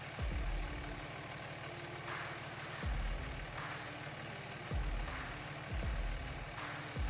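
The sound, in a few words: 2003-2009 Dodge Ram Cummins diesel truck engine idling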